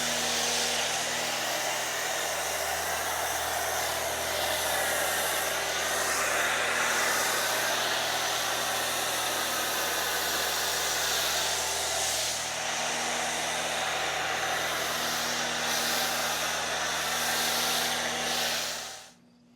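Foam sprayer applying Purifica snow foam to a car, a continuous loud hissing spray with a steady hum beneath, running nearly twenty seconds before cutting off abruptly at the end.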